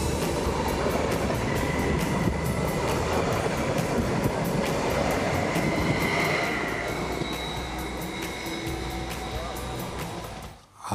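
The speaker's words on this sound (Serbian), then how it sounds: "evo ovde voz" A passenger train on a Serbian railway rumbles past with steady clattering of wheels over rail joints, loud and close throughout, fading into a brief whoosh at the end.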